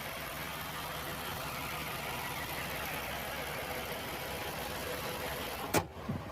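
BMW M8 Coupé with a 4.4-litre M TwinPower twin-turbo V8 rated at 600 horsepower, idling steadily up close with an even, constant drone, and a brief click-like knock near the end.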